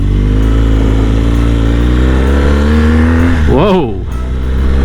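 A BMW GS 1200 adventure motorcycle roars loudly and close, its engine note climbing steadily as it accelerates, then dipping and surging again near the end under a layer of wind rush.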